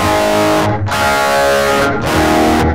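Loud, sustained electric guitar chords (A chord) run through a computer effects rack with heavy overdrive, ringing, struck three times with short breaks between.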